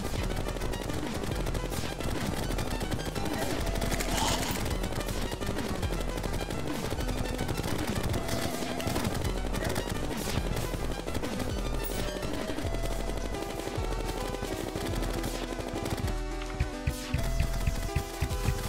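Rapid continuous gunfire from a silver-bullet-loaded weapon in a Terraria Thorium mod boss fight, dense and loud throughout over busy game music and effects, with sharper bursts near the end.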